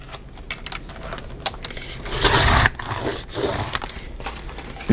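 A paper card from a collage master board being cut in half with a paper trimmer, a short burst of scraping and slicing in the middle, close and fairly loud, framed by smaller handling clicks.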